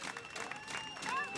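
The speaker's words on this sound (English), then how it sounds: "listen to the cheer as he launches himself off the start ramp" A crowd at a professional cycling time trial in Denmark cheers and applauds as a rider rolls off the start ramp, a steady wash of distant cheering with a short rising whistle near the end.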